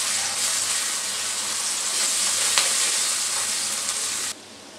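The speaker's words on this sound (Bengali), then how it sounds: "রসুন বাটাটা দিয়ে আমি ভালো করে একটু নেড়ে চেড়ে নেব।" Onions with garlic paste fry loudly in a pan while being stirred, a dense, close hiss that runs steadily and then cuts off abruptly near the end.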